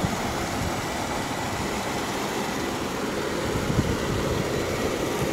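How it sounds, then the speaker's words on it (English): Stock 2016 Jeep Wrangler Unlimited Sahara idling with its stock airbox, a steady low engine rumble and broadband hum holding even throughout without a break, with no voices over it. "Smooth running engine."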